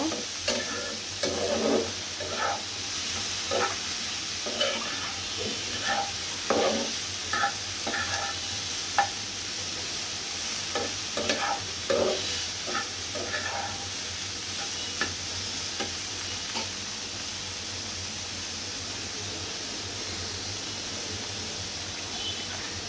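Vegetables with green chilies frying in a pan as they are stirred, a steady sizzle broken by repeated close scrapes and clinks of a spatula at an uneven rhythm, no voices.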